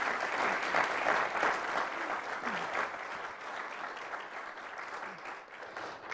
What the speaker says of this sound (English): I'd ask our audience to please give a warm, traditional round of applause to our speaker today, Labor Secretary Hilda Solis.